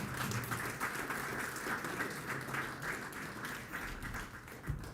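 Audience clapping at a bank customer event, a steady, moderately distant wash of hands filling the room with no one speaking.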